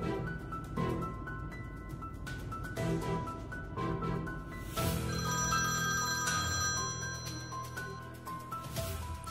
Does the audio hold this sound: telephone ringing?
yes